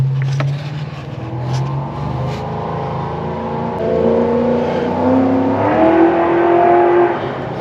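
A Mustang engine revs and climbs in pitch, whining higher as it accelerates, a steady roaring car motor heard at moderate distance with no talking.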